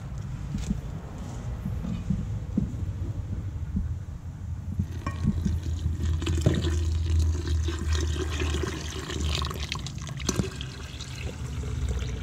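Water is poured onto ground ore in a hydrometallurgy lab to form a pulp for cyanidation, a steady splashing, trickling pour that runs close and continuous for most of the stretch with no talk over it.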